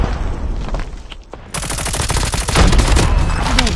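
Rapid gunfire in the mobile shooter game COD Mobile: loud bursts of automatic fire and booming shots, quieter at first, then a dense, intense volley in the second half.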